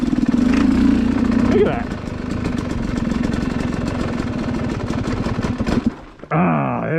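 A 2019 Yamaha YZ250X two-stroke single motorcycle fitted with a SmartCarb SC2 carburetor idles at very low RPM while creeping up a hill, a steady low putter close by under a man's speech, ending in a brief rising rev.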